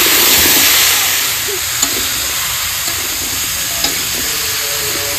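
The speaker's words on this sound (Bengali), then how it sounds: "আলুটা ভেজে নিচ্ছি। সঙ্গে এটা ভেজে নেব সব মিক্সচার করে।" Potatoes fry and sizzle in a pan with turmeric, salt and spices at an outdoor picnic, making a steady broadband crackle that stays loud and close, with a few soft stirring knocks.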